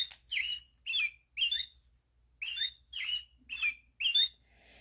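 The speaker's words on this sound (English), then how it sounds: "it was Robin who announced the race with a chirp" Robin chirping as a story sound effect: a series of seven short, bright squawking chirps in quick bursts, clear and close against a quiet background.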